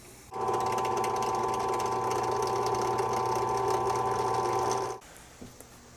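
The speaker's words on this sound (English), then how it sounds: "let's get this 15 millimeter hole drilled in here" A power drill bores a 15 mm hole into a figure-8 electric guitar body, a loud steady whine that runs for about four and a half seconds and then stops abruptly.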